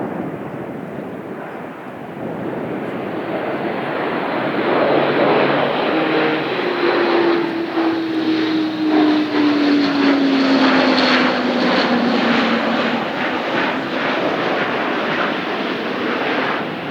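An Airbus A400M Atlas military transport at an air display roars with its four turboprop engines at maximum takeoff power. The steady, loud drone swells after a few seconds, with a tone sliding downward as the aircraft passes.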